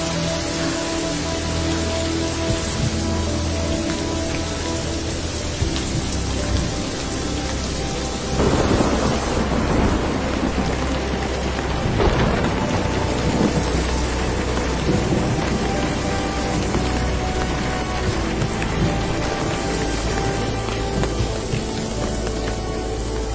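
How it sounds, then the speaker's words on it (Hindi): Heavy rain pours down steadily while thunder rumbles, with a louder crack and roll partway through; no voices. "तेज बारिश हो रही है।"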